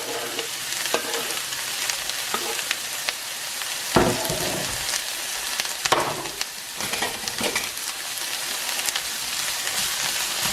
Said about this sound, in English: So now I'm gonna add the onions and the peppers.